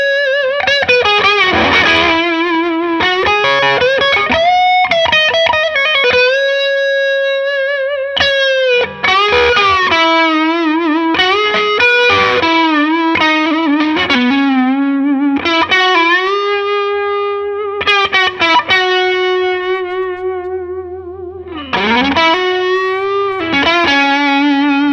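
Electric guitar driven through a Klon KTR overdrive pedal, mildly overdriven lead lines with long sustained notes, bends and quick runs, loud and continuous without vocals.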